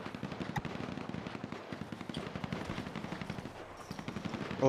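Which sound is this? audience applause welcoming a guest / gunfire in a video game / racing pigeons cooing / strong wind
gunfire in a video game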